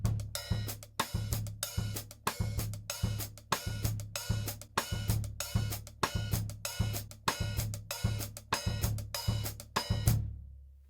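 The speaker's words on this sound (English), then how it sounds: "it sounds a bit like this. This is the basic Baião." A basic Baião groove on a drum kit, with repeated low kick pulses and sharp cymbal and snare hits in a steady syncopated cycle, close and loud, ending with a final ringing hit.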